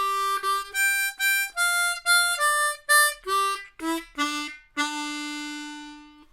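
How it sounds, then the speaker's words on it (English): A harmonica plays a classic 12-bar blues line ending in a turnaround: a run of short, clearly separated notes followed by a final long held chord, loud and close with no talking. "those last 4 notes, is a classic harmonica turnaround"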